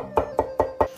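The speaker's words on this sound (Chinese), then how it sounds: "大蒜拍散和剁成蒜末" A knife chops garlic into fine mince on a board, four evenly spaced, crisp thuds in quick succession, close up with no voices.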